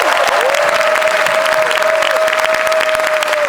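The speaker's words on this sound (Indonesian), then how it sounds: "Boleh saya minta tepuk tangan untuk host spesial malam hari ini?" Steady, dense applause from a large audience at an evening anniversary gala for a television talk show, with a sustained tone running under the clapping throughout.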